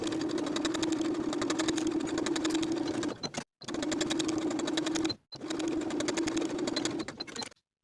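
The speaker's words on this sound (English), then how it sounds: "Sew the shoulder seams with a 5/8 inch seam allowance and press the seams open." A sewing machine runs shoulder seams on a fitted pullover top in three loud, steady bursts of rapid stitching, separated by brief stops.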